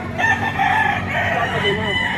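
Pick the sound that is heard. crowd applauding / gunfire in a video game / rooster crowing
rooster crowing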